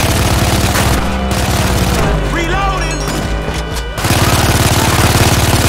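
Rapid automatic gunfire bursts loud and close in GTA 5, dense rhythmic volleys filling the opening seconds, a brief lull with a voice, then another sustained burst.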